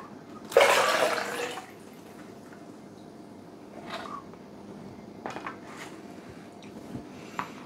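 Water from a young coconut splashes out in one loud pour near the start, then goes to quiet, faint trickles and small drips.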